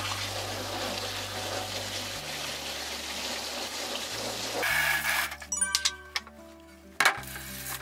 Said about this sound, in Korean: 도마도 깨끗하게 세척해 주신 뒤 수분을 제거해 주세요